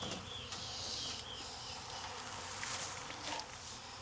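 A honey bee swarm buzzes around a hive in Jacksonville, Florida, as a dense, steady drone of many wings fills the air up close, with no voices over it.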